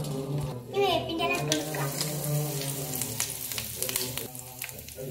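Fenugreek seeds fry in hot coconut oil in a pan, a close, steady sizzle and crackle with occasional stirring and a voice chattering over it.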